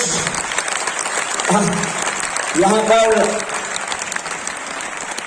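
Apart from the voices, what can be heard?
thunderous audience applause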